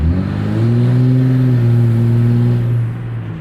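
Cummins 5.9 diesel engine revving up and holding a steady, loud drone with strong low harmonics for a few seconds, then easing off near the end, with no voices.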